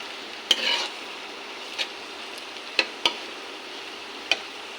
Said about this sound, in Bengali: দেখেন কাঁঠালের বিচি ভাজি হচ্ছে।